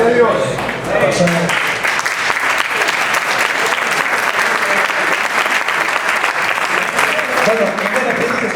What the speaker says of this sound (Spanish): porque se aplaudieron, debe ser que todos estamos de acuerdo